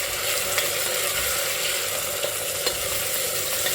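Onions and tomatoes fry in a pan on the stove, a steady loud sizzle with faint stirring scrapes running throughout, no voices.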